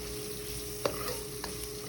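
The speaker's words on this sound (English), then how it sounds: "When the oil heats up, put the salmon in and fry it up." Salmon frying in hot oil with parsley, stirred in a pan, giving a steady close sizzle broken by a few sharp scraping clinks of a utensil.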